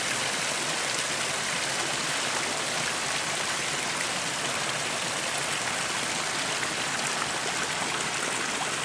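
Water pours steadily from a row of about twelve spouts at a men's purification bathing spring at a Hindu temple in Banyuwangi. A loud, continuous rushing splash fills the whole stretch, with no voices.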